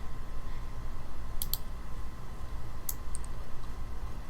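Rapid mouse clicks and key taps ring out sharply in a few short bursts over a steady background hum while working in 3D modelling software.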